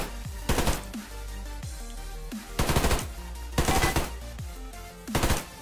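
Carbine gunfire in the Survarium video game: four short, sharp bursts of rapid shots spaced a second or two apart, loud and close, with quieter ambient game noise between them.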